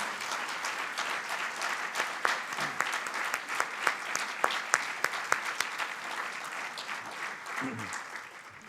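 Audience applause at a town mayor's New Year's greetings ceremony, a steady sustained clapping from a seated crowd with sharper individual claps standing out, holding throughout and tapering slightly near the end.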